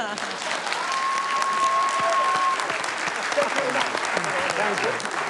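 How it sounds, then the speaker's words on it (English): Applause from a studio audience at a televised New Zealand head-of-state political debate, loud and sustained across the whole stretch, with a faint tone and some voices mixed underneath. "Can we have a clap for Ron Mark?"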